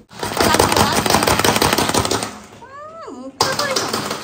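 Food being finely minced in a chopper at home, a dense, rapid rattle of blade strikes running loud and steady for over two seconds, then a brief pause with a voice before the chopping resumes.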